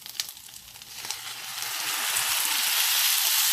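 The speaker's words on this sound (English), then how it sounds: "and now I'm going to add the beans to it." Food hits a hot pan and a bright sizzle swells quickly, a few light clinks at first, then a steady loud hiss.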